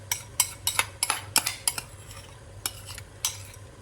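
A chopped mix of onion, garlic, ginger and green chili goes into a pan with meat for caramel pork. A utensil stirs and scrapes in a quick run of sharp metallic clinks, close and clear, with a soft sizzle underneath.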